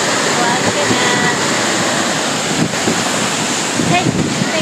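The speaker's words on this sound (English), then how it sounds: "And all these beautiful waterfalls all the way up and down here." Constant rushing water from Wahkeena Falls in Oregon's Columbia River Gorge, a dense, even roar heard from nearby, mixed with some wind buffeting on the microphone.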